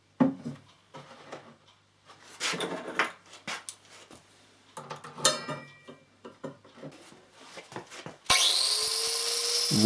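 A Husqvarna CTH 151 lawn mower blade being sharpened gives intermittent scraping, grinding strokes, then a loud, steady power-tool grind takes over near the end.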